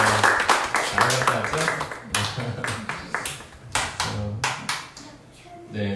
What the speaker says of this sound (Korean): 우리 진주와 성균이를 위해서 박수.